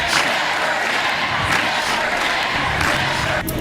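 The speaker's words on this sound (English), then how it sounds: "The crowd there chanting "Never Again," an incredibly powerful moment." A large crowd at the March For Our Lives rally chants "Never Again" together, a loud, dense and steady roar of massed voices filling the whole stretch.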